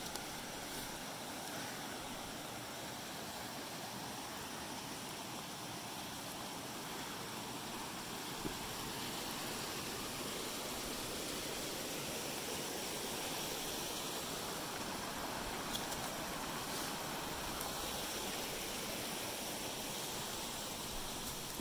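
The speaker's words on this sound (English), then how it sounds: "You cross a small bridge that takes you over the spring water before it gushes over the falls." Spring water gushes over a waterfall on Strawberry Mountain near Prairie City, Oregon, heard from a small bridge as a loud, steady, unbroken roar with no voices.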